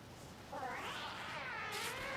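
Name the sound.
cat meowing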